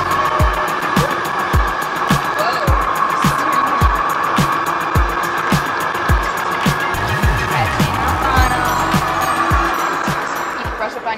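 Toyota race car in a video game, engine roaring steadily with repeated sharp tyre and gear transients throughout, loud and continuous, while someone talks over it.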